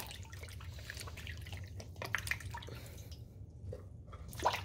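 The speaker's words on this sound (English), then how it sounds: "Next, I'm washing my tomatoes." Tomatoes being washed under running water in a home kitchen, with soft dripping, splashing and squishing of wet fruit, fairly quiet and close, with a few sharper splashes.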